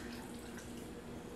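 Syrup for a Japanese peach rare cheesecake pours steadily over peaches, making a continuous soft liquid splashing and trickling that stays close and even throughout.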